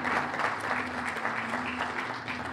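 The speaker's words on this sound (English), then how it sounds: "Give that a nice round of applause." Steady applause from an audience at an awards gala, dense and continuous clapping filling the room at close range without a break.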